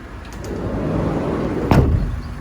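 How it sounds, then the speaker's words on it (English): The sliding side door of a 2015 Peugeot Boxer van rolls along its track with a low grinding rumble, then clunks as it reaches the end of its travel, close by. "We open up the sliding door, don't we?"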